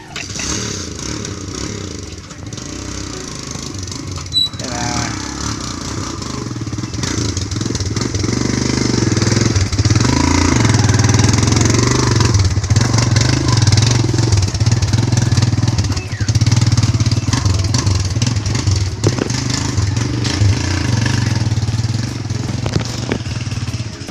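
A motorcycle engine runs steadily and loudly close by, a continuous rumbling drone that swells slightly and holds for the whole stretch, with some clattering and scraping around it.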